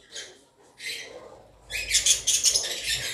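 Two short bursts of shrill chirping come from African lovebirds in a cage, then the flock erupts into dense, loud squawking chatter over a low background rumble.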